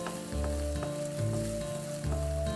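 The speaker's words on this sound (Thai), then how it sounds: "พอน้ำมันร้อนนะครับเราก็จะเอาขิงลงไปผัดก่อนนะครับ" Ginger stir-fries in hot oil in a wok, crackling and sizzling steadily up close, with the scrape and clatter of a utensil stirring at intervals and no talking.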